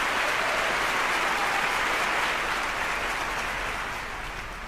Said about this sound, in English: We just waiting for the applause